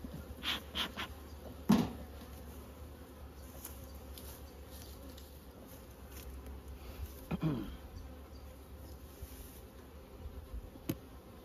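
Honey bees buzz faintly around a strong hive during spring management work, a thin continuous drone with a few brief knocks and clunks of handling nearby.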